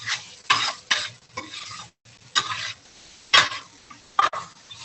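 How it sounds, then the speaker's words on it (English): Dried mint is stirred into a cooking pot in bursts of scraping spoon strokes against the pot, separated by short pauses, close and fairly loud. "So this is just dried mint. If you have fresh mint, that works too."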